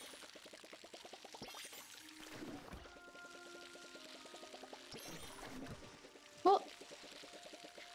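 Crops being watered in the farming video game Palia, a bright pouring, splashing water effect running through most of the stretch, with game tones and music underneath and a short sharp chime near the end.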